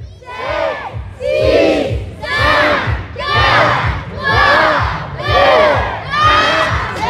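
A big festival crowd shouts a countdown in unison at the finale, seven loud rhythmic chanted calls in a steady beat, close and massed.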